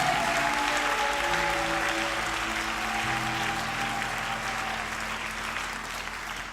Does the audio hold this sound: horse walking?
no